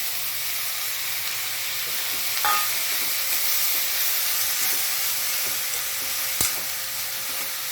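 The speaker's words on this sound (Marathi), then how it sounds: "कांदा गुलाबी झाला आहे. गॅस बारीक करते. त्यात टोमॅटो आणि शिमला," Onion, tomato and capsicum sizzle in a pan while being stirred, a steady close hiss broken by occasional scrapes and knocks of the spoon, with no talking.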